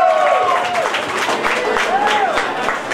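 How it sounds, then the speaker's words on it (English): A convention crowd applauds a contestant in a comic con cosplay parade, clapping spread through a large hall, with some whoops and a whistle-like tone rising over the noise. "And can we have one more round of applause for Edward Kenway?"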